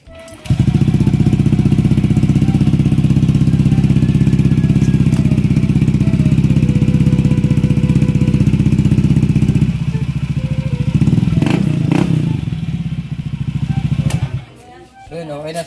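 A Honda Beat scooter engine runs loud and close during a workshop test, a steady droning hum that shifts pitch near the end, with people talking over it.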